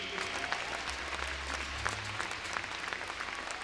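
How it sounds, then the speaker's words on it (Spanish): A church congregation claps for Jesus Christ during a Spanish-language service, a steady wash of applause that sits fairly faint and distant, with a low hum underneath and no clear voices on top. "Vamos a dar un aplauso a Jesucristo"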